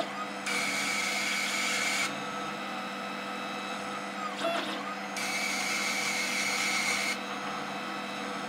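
A K40 laser cutter cuts a cog from plywood, its steady machine hum and fan noise joined by two long bursts of bright hissing, each lasting a couple of seconds with a short pause between.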